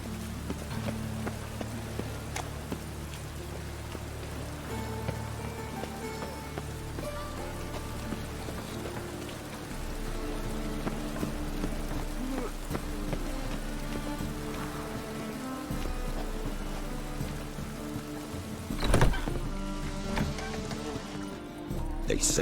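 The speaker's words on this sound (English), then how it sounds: "And it's raining again." Rain falls steadily in The Witcher 3, a constant hiss of drops under game music and ambient sounds, with a brief louder thump near the end.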